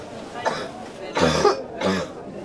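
A patient with a lower respiratory tract infection coughs in three short, separate bursts, close and fairly quiet against a low background hum.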